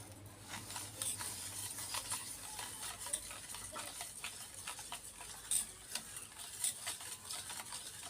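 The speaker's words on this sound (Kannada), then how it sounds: "ಇದನ್ನು ಚೆಂದಾಗಿ ಮಿಕ್ಸ್ ಮಾಡ್ಕೊತೀನಿ ರೀ. ಮಿಕ್ಸ್ ಮಾಡ್ತೀನಿ ಫ್ರೆಂಡ್ಸ್." A spoon stirs milk and sugar in a bowl for mango cake batter, producing faint, close, repetitive scraping and light clicks against the bowl in an irregular rhythm.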